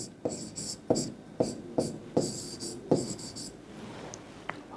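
Pen strokes on paper during a math lecture: a series of about six distinct scratchy taps and short scribbles at an irregular pace, close and quiet, with no talking.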